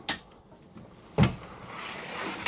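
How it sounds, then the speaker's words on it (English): Pocket door in a 2026 Keystone Reign 19RK camper bedroom sliding shut, a short soft scrape and then a dull thud as it closes, with a fainter knock at the very end in a quiet room. "I'm going to close this off again because you've got an additional pocket door"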